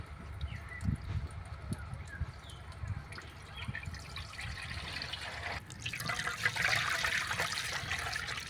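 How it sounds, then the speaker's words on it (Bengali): Water poured by mug through a cotton towel into a pot in a village kitchen, a steady trickling and splashing that grows fuller and louder toward the end, with no talk. "মগের সাহায্যে একটু করে তুলব আর এখানে ছেঁকে নেব জলটা"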